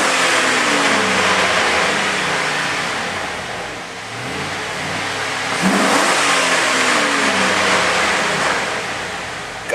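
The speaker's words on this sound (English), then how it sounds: "God, I love a quick revving LS engine." Used 2005 Chevy 6.0 LS engine with 115K miles revving on a test stand, a loud, sustained roar that swells and eases in two broad surges, close by with no talk.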